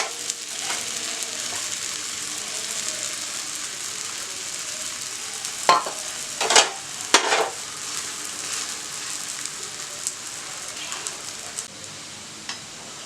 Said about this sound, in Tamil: இதுக்கு மேலே வந்து கொஞ்சம் எண்ணெய் ஊற்றிக்கலாம். 2 சைடும் வந்து நல்லா வேக வச்சு எடுத்துக்கலாம்